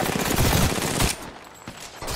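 Gunfire in Apex Legends, a dense burst of rapid automatic shots for about a second, then sparser scattered shots and quieter gaps, loud and close with no talking.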